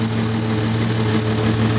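A 1973 Mercedes 280 CE straight-six engine runs steadily at idle, a smooth, constant low hum with strong harmonic drone, close and continuous with no talking.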